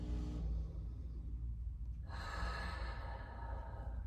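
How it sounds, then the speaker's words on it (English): Slow, deep breathing during a pec release: a long exhale, a pause, then a full breath drawn in over a low steady hum, close and soft. "So I'm just gonna take a few breaths here."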